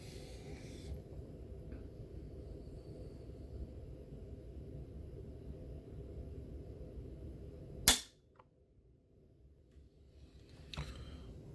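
A Sako 85 Classic rifle in .375 H&H dry-fired on A-Zoom snap caps gives a single crisp metallic click over a steady low background hum, then a fainter click a few seconds later.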